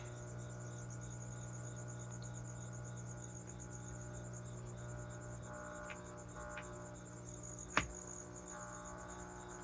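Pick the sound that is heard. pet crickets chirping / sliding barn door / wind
pet crickets chirping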